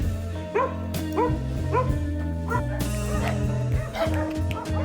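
Several dogs bark, yip and whimper at the Lucky Animal Protection Shelter, a close, busy chorus of repeated sharp calls over low background music, with a voice faintly present.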